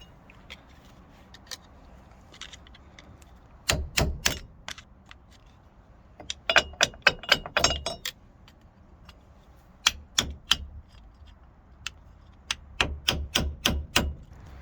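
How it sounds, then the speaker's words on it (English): Sharp metallic hammer strikes knocking out a cotter pin on a Ford Transit wheel hub, in quick bursts of three to five blows separated by pauses, close by with no talking. "Get your hammer and your flat screwdriver. Let's have this cotter pin out."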